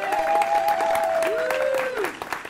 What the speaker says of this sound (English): I am still not used to being greeted by applause